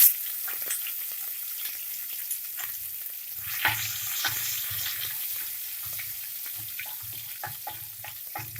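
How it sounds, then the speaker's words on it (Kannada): Mustard seeds and cumin crackle in hot oil for a tempering over low flame, giving scattered sharp pops over a soft steady sizzle, with occasional stirring scrapes and no talk. "ಸಾಸಿವೆ ಜೀರಿಗೆ ಚಟಪಟ ಅಂತ ಇದೆ"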